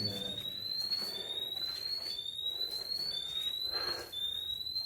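A gas detector sounds its low-oxygen alarm inside an abandoned mine, repeating rising electronic chirps about once a second at a steady pace, clear and prominent over faint background murmur.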